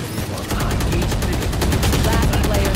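Rapid gunfire in the Valorant competitive ranked shooter, a dense burst of loud close shots firing in a fast continuous stream.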